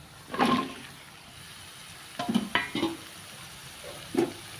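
Okra (lady finger) tossed into a hot pan for a garlic stir-fry, with loud sizzling bursts and stirring scrapes in short separate spurts over a quiet background.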